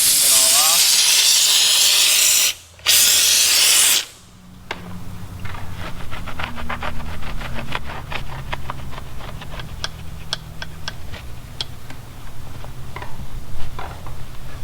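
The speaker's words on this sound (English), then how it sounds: "this thing puts out just a ton of steam" Steam cleaner blasting a loud, steady hiss of steam across vehicle wheels, cut off briefly twice, then quieter ticking and dripping sounds with a faint low hum afterward.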